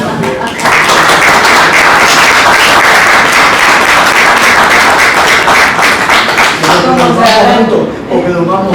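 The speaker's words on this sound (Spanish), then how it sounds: "pido un gran aplauso también" Loud, sustained applause from an audience at a gourmet design presentation in Cuba's National Library, a dense wash of clapping that fills most of the stretch before fading as a voice starts speaking near the end.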